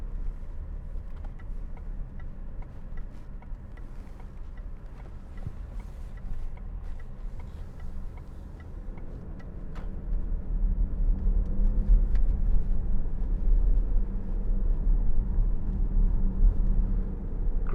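A 2016 Range Rover Sport 3.0 SD V6 HSE 4x4 drives along a country lane, with a steady, low engine and road drone heard from inside the cabin that grows somewhat louder partway through.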